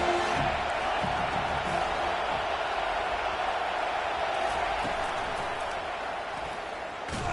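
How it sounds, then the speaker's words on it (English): A stadium crowd in the College Football 25 video game roars as a steady, broad wash of noise, loud and sustained with no distinct cheers standing out, easing slightly toward the end. "This crowd trying to make life miserable for this offense."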